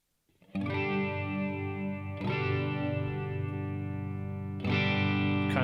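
Sustained electric guitar chords ring out through a chorus effect on a Boss Katana MKII amp, giving a thick, shimmering, doubled tone, with three strums in a row.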